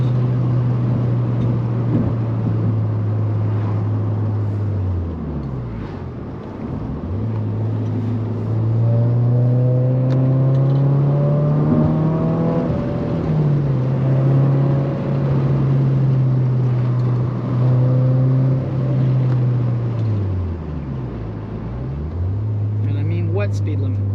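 Toyota GR86 sports car sweeping through turns, its engine note rising and falling steadily under continuous cabin rumble and road noise, close and loud throughout.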